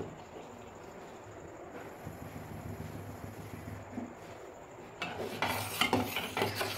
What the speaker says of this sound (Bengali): এবার আমি নাড়তে থাকবো